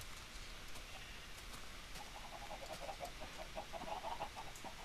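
Chickens clucking in the Minecraft video game, a run of short, faint, rapid clucks in the second half over a soft, steady background hiss.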